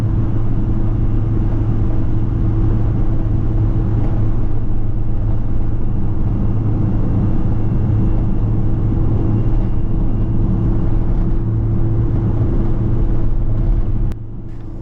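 A 1984 Bertone X1/9 mid-engine sports car drives along, its low, steady engine and road rumble filling the cabin without a break and easing slightly just at the end.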